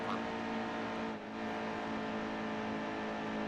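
Race cars in NASCAR Heat 2 roar around the track, a continuous high engine drone with a brief dip midway as another car draws alongside to pass, no speech over it.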